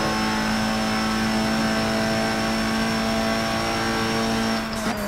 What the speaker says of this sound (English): So I gotta spool the turbo there